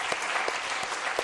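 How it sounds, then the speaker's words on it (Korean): A church congregation bursts into brief, dense applause during a Sunday service, rapid clapping from many hands filling a large room. "박수로 한번 좀 격려해 주시죠."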